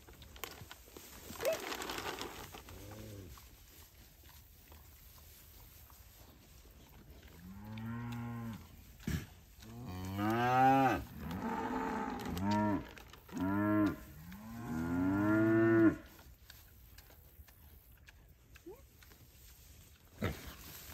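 A show-cattle heifer lets out a series of loud, drawn-out moos, several calls in close succession near the middle, with quiet rustling and handling sounds around them.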